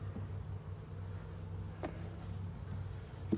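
Honeybees from an August swarm buzzing near the hive, a faint steady hum with no talking.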